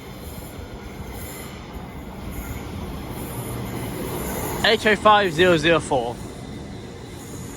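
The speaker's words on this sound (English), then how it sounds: "this 805 is coming back, running from London Euston to Oxley." A Class 805 passenger train running from London Euston to Oxley, diverted through Northampton, rumbles past with wheel squeal and a short burst of brake or flange screeches near the end, while a voice calls out its number.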